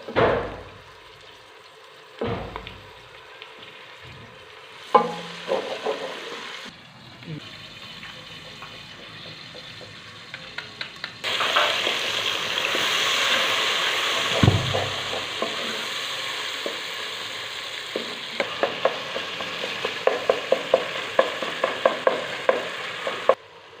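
Tomatoes go into browned ginger and garlic in a pan for desi karhi pakora, bringing a steady sizzle and frying hiss with repeated stirring clinks and scrapes, close and continuous, with occasional talk.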